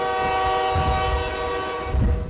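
An Adirondack Scenic Railroad train in central New York during fall foliage season sounds a long, steady horn blast as the cars rumble along the track close by, loud throughout.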